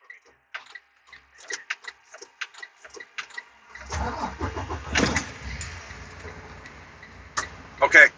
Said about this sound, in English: You need me to start the truck